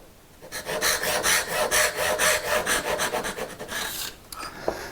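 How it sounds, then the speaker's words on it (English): Hand saw cutting angled dovetails in a wood board held in a vise, a steady run of rasping back-and-forth strokes, close and loud, easing off near the end. "you're just cutting adjacent to the line"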